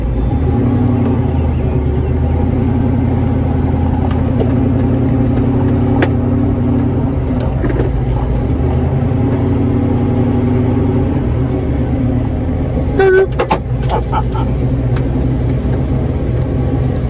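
A 1969 Camaro idles as it warms up, its engine a loud, steady, deep rumble close by, with a few small clicks and knocks near the end and no talk.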